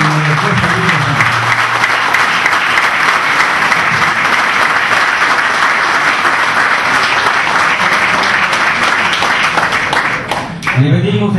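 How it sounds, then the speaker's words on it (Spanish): Loud, sustained applause from a large crowd at an awards ceremony, steady throughout and tapering slightly at the end. "Yo quiero pedirle con todo respeto un gran aplauso para don José"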